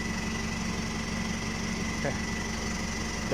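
A Chevrolet 2500 engine with a stock turbo and a welded exhaust after the turbo idles steadily at close range, a low, even drone with a faint mechanical hum and no breaks.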